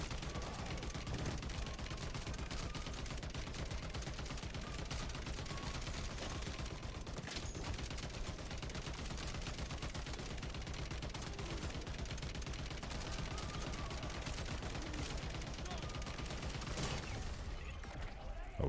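Rapid, continuous gunfire from a weapon in the video game MW3 Zombies, dense bursts of shots firing without pause, loud and close, with a player's voice talking at times.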